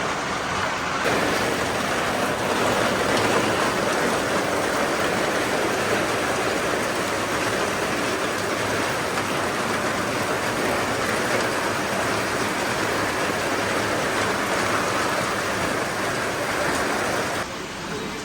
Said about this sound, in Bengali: গাইস বৃষ্টি নামা শুরু হয়েছে